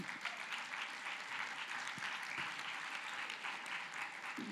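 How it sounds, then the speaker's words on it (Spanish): A church congregation claps steadily in a full, even round of applause with a few sharper individual claps standing out, lasting several seconds. "dale un fuerte aplauso al Señor"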